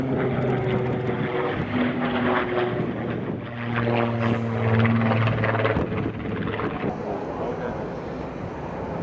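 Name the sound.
Supermarine Spitfire aircraft flying at airshow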